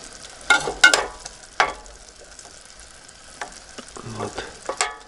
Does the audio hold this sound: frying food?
yes